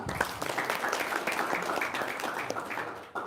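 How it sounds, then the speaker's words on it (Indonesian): Audience applause during an Islamic talk, a steady, fairly soft patter of many hands clapping at a distance, continuing evenly for a few seconds before dropping off. "Tepuk tangan dulu dong."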